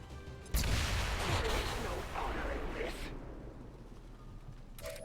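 A grenade explodes in XCOM 2 with a sudden loud blast, followed by several seconds of rumbling debris and crackle that slowly fades, with a brief sharp sound at the very end.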